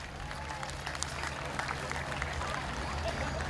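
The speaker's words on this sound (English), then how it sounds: "Big round of applause for the dancers," Audience applause for the dancers at a Jambo Africa event, a steady wash of clapping across the whole stretch, fairly distant and even, with a low hum and crowd murmur underneath.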